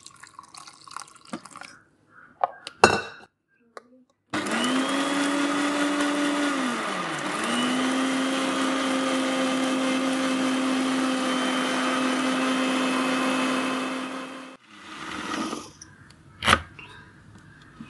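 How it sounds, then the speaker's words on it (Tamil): A mixer grinder whirs steadily and loudly for about ten seconds grinding chickpeas with water, its motor pitch dipping once, with clattering and handling noises before and after. "இப்போ தண்ணி ஊற்றி அரைச்சிக்கலாம்."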